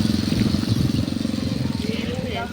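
An ATV bike engine throbs in a rapid, pulsing low rhythm while being ridden, close and fairly loud, with a person talking over it.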